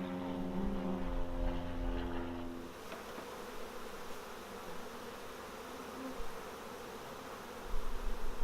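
A honeybee swarm hums steadily at close range, a dense continuous drone that stays even for the whole stretch, with no talking.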